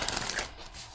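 A deck of playing cards is shuffled up close, giving a brief, dense papery riffle that fades out within a second.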